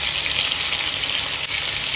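Tomatoes with salt, turmeric and ginger sizzling in a frying pan, giving a loud, even, continuous frying hiss that lasts the whole time, with one brief dip.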